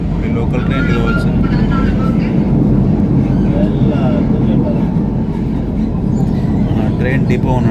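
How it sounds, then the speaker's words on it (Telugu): A KTM local commuter train in Malaysia rumbles past close by, near Batu Caves, with steady loud rolling noise and people talking over it. "లోకల్ ట్రైన్ కావచ్చు."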